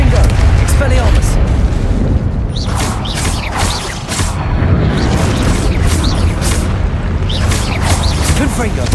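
Spell combat in the Hogwarts Legacy video game brings a long run of loud booming blasts, with repeated sharp bursts and whooshes stacking over a constant rumbling bed and faint voices mixed in.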